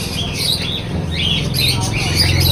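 Caged pet birds, including cockatiels, squawk and chatter steadily in a loud, busy aviary din, with a faint voice talking underneath.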